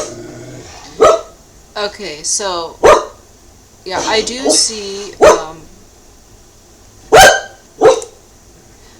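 Dogs bark repeatedly indoors, loud sharp single barks and short bursts spaced irregularly, with someone talking briefly between them.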